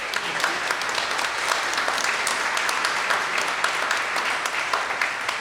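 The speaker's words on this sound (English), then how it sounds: "So give yourselves a round of applause." Studio audience applause at a live radio show recreation, a dense, steady wash of clapping hands that holds at full strength throughout without any speech over it.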